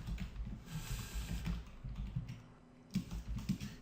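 Fingers typing on a computer keyboard, a quiet run of soft, uneven key clicks close by with a brief pause before a few firmer keystrokes near the end.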